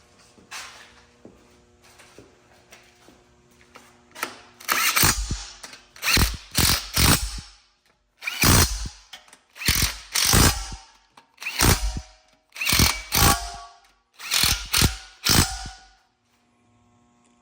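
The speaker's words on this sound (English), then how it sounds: "we're going to torque these 13 millimeter nuts down to 18 foot-pounds" A ratchet wrench tightens 13 mm windage tray nuts on a 6.0-liter LS engine under rebuild, loud close bursts of rapid clicking repeated in a series of strokes with short gaps, after a quiet start and no talk.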